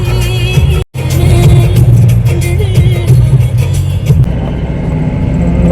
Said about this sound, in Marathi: चला गाईज, आता आपण गाडी चालवूया.